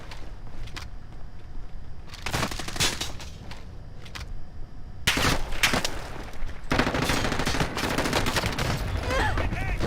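Gunfire in Call of Duty: Warzone, with sporadic single shots, then heavy bursts and sustained automatic fire, loud and close, with battle noise between the volleys.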